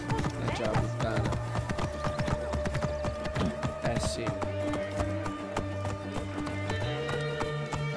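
Horse hooves clip-clop in steady running rhythm in Assassin's Creed Origins, moderately loud amid game music and ambience, with a person briefly speaking over it.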